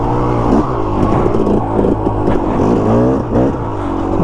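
A KTM motorcycle cruising steadily in second gear, its engine note a continuous, fairly loud drone with slight rises and dips in pitch, close and steady throughout with no talk.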